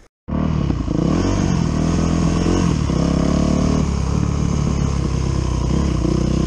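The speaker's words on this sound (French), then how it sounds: "Ça y est, la moto a fini de chauffer." A 250 motorcycle engine, warmed up, starts abruptly and runs close and loud, with a steady throbbing idle and a few slight rises and dips in revs. Nobody speaks.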